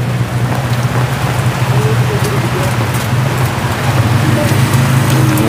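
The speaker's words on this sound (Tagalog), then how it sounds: "Walang tigil naman ang ulan dito sa Daet." Steady rain falls in Daet, a dense constant patter on surfaces with a low rumble beneath, continuous and fairly loud throughout.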